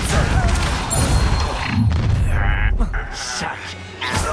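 A Compulso spell cast in the video game Hogwarts Legacy: a loud booming crash with rumbling impacts and whooshing magical effects, layered closely over other combat noise.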